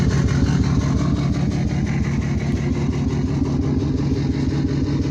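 An unhealthy Dodge Ram Dirtymax truck engine idles nearby in a driveway with a rough, uneven rumble, pulsing steadily and loudly throughout without any voices.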